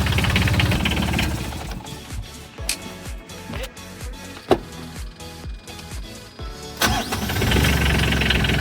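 A sailboat's engine cranks and starts with knocking, sputtering bursts before settling into a steady mid-pitched running drone, fairly loud and close, with faint voices in the background.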